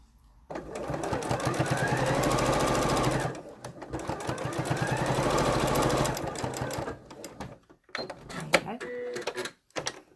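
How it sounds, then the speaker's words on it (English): A sewing machine stitches a 1 cm French seam in fabric, running in two fast rhythmic bursts of a few seconds each, then a few short stops and starts, with a person talking near the end. "when I stitch, I'm lining up the edge of the foot to the edge of the fabric and stitching a 1cm seam"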